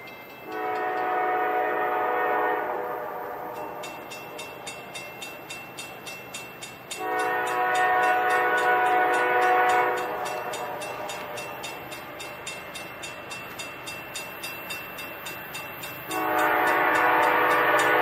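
A northbound CSX train rumbles steadily past with a rhythmic clatter of wheels, while a loud, sustained horn blasts three times, each lasting a couple of seconds.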